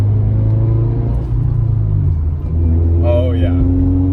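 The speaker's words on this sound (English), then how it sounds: "Driving it with a manual feels a hell of a lot better too." A Subaru Impreza with a manual transmission rolls along at low speed, its engine a steady close low rumble inside the cabin, with a brief rising whine near the end and a voice speaking over it.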